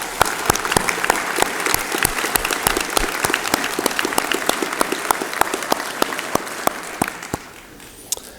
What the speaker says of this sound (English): So a round of applause for both teams, please.